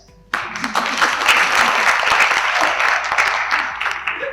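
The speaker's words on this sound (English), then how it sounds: "You need an applause for that." Audience applause erupts suddenly at a celebration of Lady Lawyers Day, a steady, dense clapping from many hands that stays loud and full after a quiet start.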